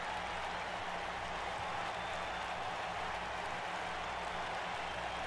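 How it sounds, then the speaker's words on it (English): A crowd cheers in the WWE 2K19 wrestling video game at the end of a tag-team match: a steady, dense wash of crowd noise and applause that holds constant throughout, with no distinct voices. "And the crowd cheering, and I believe they're cheering because they are quite happy that it's the end."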